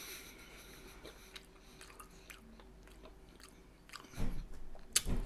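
Pleșcoi sausages chewed close to the mouth, with soft wet chewing and occasional light crunches, then louder bites and smacking toward the end, with no talk.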